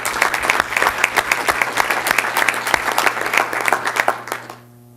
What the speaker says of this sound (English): So I just have us give a round of applause for all her hard work